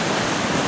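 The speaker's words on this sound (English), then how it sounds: "you can actually see below the falls here, the water rise and settle with the coming and the going of the tide cycle." Steady broadband rush of river water at tidal falls, a constant roaring wash with no breaks, loud and close, no voices.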